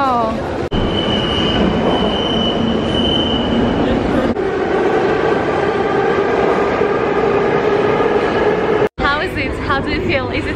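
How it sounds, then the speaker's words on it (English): Saint Petersburg metro station ambience: a loud, steady rumble of a train with squealing wheels and clattering carriages under a constant roar, joined near the end by echoing chatter and a few sharp squeals. "This is the metro station here, it's very nice."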